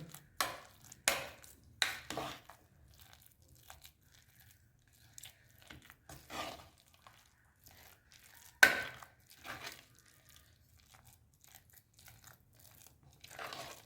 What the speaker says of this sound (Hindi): उसको थोड़ा थोड़ा हल्का हल्का मैश कर लेंगे।